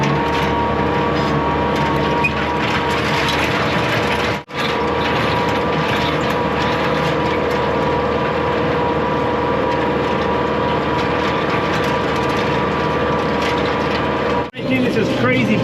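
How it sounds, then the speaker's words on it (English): A 115 horsepower tractor drags an 11-foot chisel plow through a rocky field, its engine a loud, steady, close drone with mechanical clanking running throughout and two brief dropouts. "this 115 horsepower tractor does get stalled sometimes by this 11-foot chisel plow"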